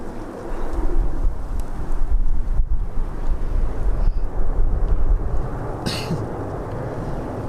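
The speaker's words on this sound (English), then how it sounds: "Caught by a bit of crosswind there." Gusty crosswind buffets the microphone at Birmingham Airport as a plane lands, a steady loud rumble of wind noise throughout with no talk.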